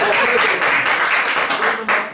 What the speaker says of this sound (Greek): Εδώ συνήθως χειροκροτάνε.